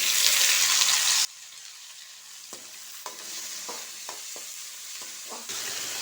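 Onions sautéing in a pan for ragi semiya give a quiet crackling sizzle, broken by several distinct spatula scrapes and taps, with a louder burst of frying at the start and end.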